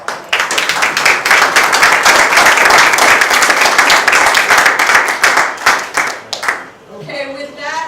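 An audience at a Tea Party candidate forum in Virginia Beach breaks into loud, dense clapping that holds steady for several seconds, then thins out into a few scattered claps before a voice starts speaking at the end.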